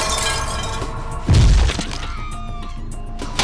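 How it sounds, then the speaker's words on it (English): Glass cracking and then shattering during a dramatic rescue movie scene with a firefighter, a sharp loud smash bursting out in the middle over a dense background of music and ambience. "The glass cracks more and more before the firefighter can react."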